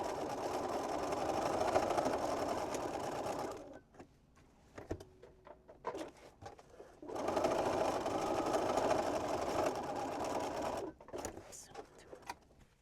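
A sewing machine runs a line of basting stitches on a drawstring pouch bag, with two sustained bursts of rapid mechanical whirring separated by a pause of small clicks and handling noises, and someone talks at times.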